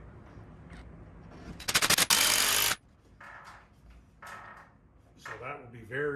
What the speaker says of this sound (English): So now we're going to tapcon it in.